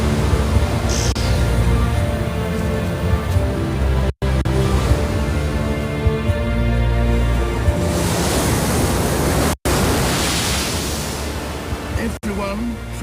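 Surf rolls continuously onto a forest-edged beach in the DR Congo, a loud, close, rushing roar of breaking waves with a few abrupt cuts.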